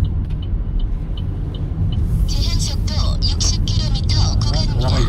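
A car pulls away on a road driving test route at the Jeonnam licence test centre, its engine rumbling low and steady, with a clicking indicator early and a person talking over the later part.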